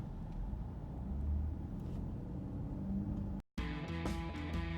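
A 2015 Lincoln Navigator with a shifting fault runs with a steady low engine rumble and road noise, then after a brief cut the engine tone rises and strains, heard close with no talk.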